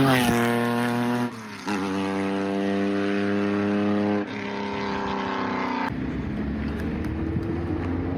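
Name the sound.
car exhaust with cutout valve bypassing muffler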